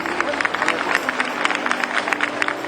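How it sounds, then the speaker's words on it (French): Audience applause at a geek convention day in Lille: steady, dense clapping from a crowd, fairly loud and continuous, with faint babble of voices mixed in. "Ah bah alors applaudissez, je vous en prie"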